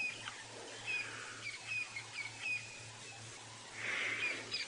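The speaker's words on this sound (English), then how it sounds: "you can hear all the birds this morning as well, all around us. The dawn chorus is making lots of noise." A dawn chorus at sunrise on a safari drive: faint chirps and twittering birdsong drift from several directions over a low background hum, with one brighter burst of song near the end.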